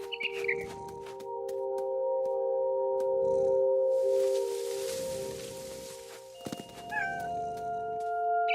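A cat in the video game What Remains of Edith Finch gives a few short meows amid game ambience, with bird chirps and a steady background hum, heard close and fairly quiet.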